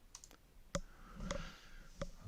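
A few sharp computer mouse clicks, about five spaced irregularly over a couple of seconds, quiet and close against a faint background.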